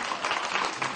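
A television studio audience claps to cast a vote, producing a brief, dense burst of steady applause.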